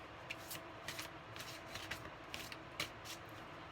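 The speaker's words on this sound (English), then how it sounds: "I like going back and forth, horizontal and vertical shuffling" Large oracle card deck shuffled by hand, a run of quick crisp riffling flutters and soft card slaps repeating in irregular bursts, close and fairly quiet.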